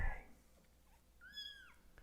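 A small kitten gives one clear, drawn-out meow up close, rising and then falling, in an otherwise quiet room with a faint murmur of background noise.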